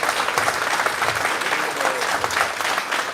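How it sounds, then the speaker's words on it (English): Audience at an interview event gives a sustained, dense round of applause, loud and steady throughout with no break. "So let's have a huge round of applause."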